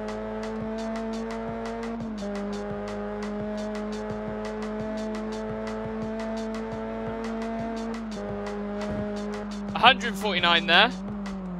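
A car in the video game Test Drive Unlimited drones at steady engine pitch, then screeches into a short tire squeal as it spins out near the end, with someone talking over it.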